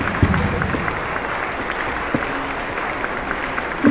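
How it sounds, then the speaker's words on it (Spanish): An audience applauds a maestro at a live talk, steady sustained clapping from a crowd, moderately loud and even throughout. "Vamos a dar un aplauso al maestro Ríos."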